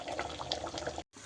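Water pouring and splashing steadily into a cooking pot of boiling chicken gravy for about a second, then cutting off abruptly.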